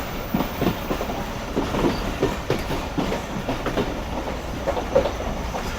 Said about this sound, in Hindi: तो ये डिग रोड पे एक और ट्रेन भी अप्रोच बना रही है।